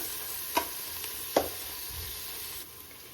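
Ginger garlic paste fries in oil for egg pulao, a soft steady sizzle with two sharp scrapes of a stirring spoon against the pan early on.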